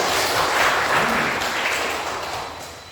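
A classroom audience at an Indonesian college session claps in a short burst, the dense applause steady and fairly loud, tapering off slightly at the end.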